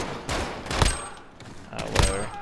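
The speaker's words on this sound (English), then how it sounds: "Tell me none of those shots connected." Gunfire in the Call of Duty: Modern Warfare video game during a 2v2 match, two clusters of sharp rapid shots about a second apart, close and fairly loud, with no talk over them.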